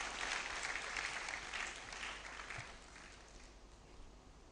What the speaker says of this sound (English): let's give our mentors and judges some hand of applause.